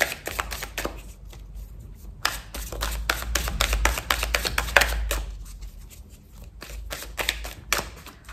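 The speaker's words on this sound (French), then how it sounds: "On va faire un tirage pour vous. Allez. Hop, tarot persan de Madame Indira, c'est parti." A deck of Persian tarot cards is shuffled by hand in a rapid run of crisp riffles and slaps, close by, with short pauses between bursts.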